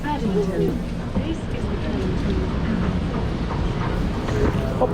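Crowded London Underground train running past Paddington, a steady loud rumble of rolling wheels and carriage noise with a babble of passenger chatter mixed throughout.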